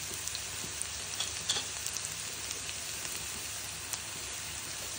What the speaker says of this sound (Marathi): आपण त्यामध्ये टाकू जिरे